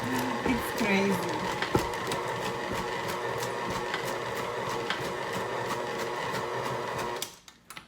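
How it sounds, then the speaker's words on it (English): An electric mixer churns slime with a steady motor whir and rhythmic knocking as the mixer jumps, then stops abruptly near the end. "The slime is starting to form and the mixer starts jumping"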